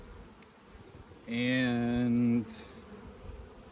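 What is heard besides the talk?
honeybees buzzing around a boosted hive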